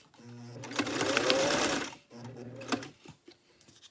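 A sewing machine stitches a strip of dictionary paper in a loud, fast whirring run of about two seconds, then a shorter burst follows, close up with no talk.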